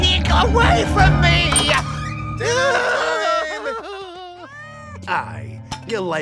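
A cartoon cat gives drawn-out, wavering meows and yowls amid lively character voices, with the cries rising and falling in pitch across several seconds.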